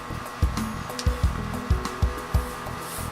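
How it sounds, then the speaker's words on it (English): Small Dremel rotary tool with a fine bit sanding the ridges of a carved piece, a steady high whine broken by repeated rhythmic bumps as the bit touches the surface, close and fairly loud. "Dremel tool, a small little bit, and start working on the ridges"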